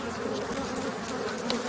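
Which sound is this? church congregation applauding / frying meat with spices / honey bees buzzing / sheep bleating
honey bees buzzing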